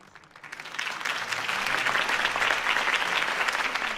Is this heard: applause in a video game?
yes